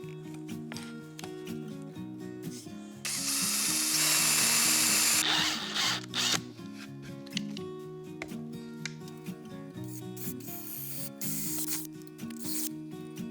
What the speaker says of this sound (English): drill that offset hole